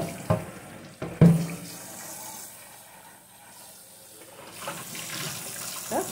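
Hot water runs steadily from a kitchen faucet into a sink while fridge parts are washed, a soft continuous hiss broken by a few sharp clunks of items being handled.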